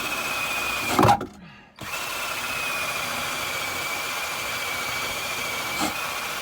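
A power drill whirs steadily while cleaning surface rust from the underside of a Fiat Uno Turbo, close and continuous after a brief stop near the start.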